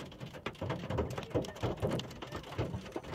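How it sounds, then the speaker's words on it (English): Hail falling during a flood storm: a dense, continuous clatter of stones striking surfaces, with irregular thumps and pattering, fairly loud and close. "That's hailstorm. The hailstorm is dropping."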